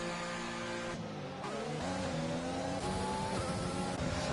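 F1 race cars in a racing video game at the Belgian circuit, engines droning steadily with shifting pitch as cars run close, a continuous layered whine with no voices.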